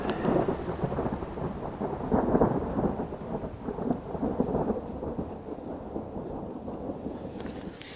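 A thunderstorm outdoors in elk-hunting country, with steady heavy rain and rolling rumbles of thunder, plus some wind buffeting the microphone throughout.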